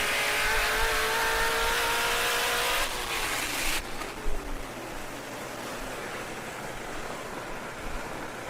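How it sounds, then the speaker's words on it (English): Street racing cars accelerating hard in a Texas and Mexico street race, a loud rising engine roar that cuts off abruptly, followed by a steady broad wash of crowd and road noise in the distance. "Damn, these cars moving."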